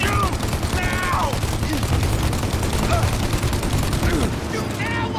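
Dense, continuous gunfire fills a shootout in Mafia: Definitive Edition, a sustained crackling fusillade of rapid shots under shouted voices, easing slightly near the end.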